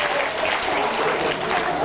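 Audience at a sales and marketing summit applauds steadily, a dense, continuous clapping that fills the hall without a break.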